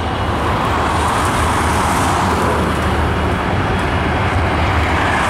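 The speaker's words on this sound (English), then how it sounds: "oh, there's a lot of traffic." Heavy road traffic rushes past in rainy weather, a loud continuous wash of tire and engine noise from nearby vehicles with no break, heard while walking outdoors.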